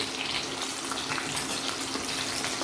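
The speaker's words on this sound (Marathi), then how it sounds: "लसूण आणि मिरची व्यवस्थित तेलावर आपल्याला परतून घ्यायची आहे" Green chilies and garlic cloves fry in hot oil, making a loud, dense, continuous sizzle close by with no pauses.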